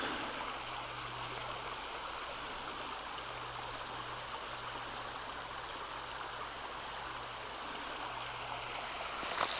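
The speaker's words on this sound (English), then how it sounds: "This must be Hurricane Creek, because it says that it's normally a wet crossing" Hurricane Creek, a normally wet stream crossing on the Ozark Trail, gives a steady broadband rush of flowing water, even and moderately near throughout, with no talk.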